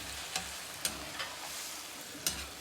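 Beef chukka with pepper and mutton masala fries in a pan while being stirred, a low steady sizzle broken by four sharp scraping strokes of the spatula, close and without talk.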